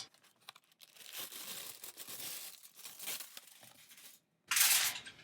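Tin foil crumpled by hand over a dried sculpture base for a mixed media craft, with close, bright crinkling and crackling that comes in bursts, a brief pause, then a loud final crush.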